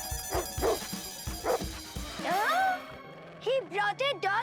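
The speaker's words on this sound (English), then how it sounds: "He brought a dog even bigger than our dog." A big cartoon dog gives a quick run of loud, close barks, followed by whimpering yips, with voices talking around it.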